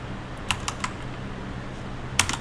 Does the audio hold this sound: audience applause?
no